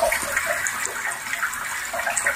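Water runs steadily from a Nexoms instant heating water tap, a close, continuous splashing flow with no voices.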